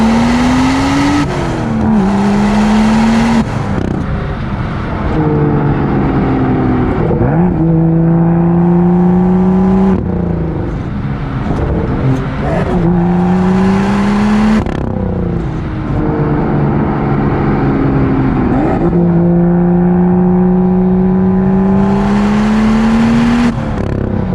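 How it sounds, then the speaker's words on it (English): A car engine revs up repeatedly, pitch climbing through each gear before dropping at the shift, loud and continuous throughout with no talking. A BMW M2 with an FTP charge pipe, CSF front-mount intercooler and Dinan intake. "The car feels like it's pulling really, really good."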